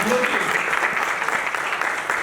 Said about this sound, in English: we must give a round of applause for that